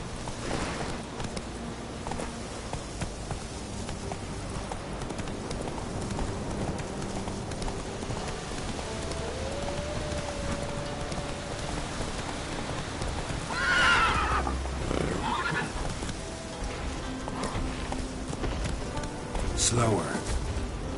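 A horse in The Witcher 3, ridden across Skellige, neighs and whinnies over steady clip-clopping hoofbeats, with a louder whinny near the middle and another burst near the end, and a voice talking over it.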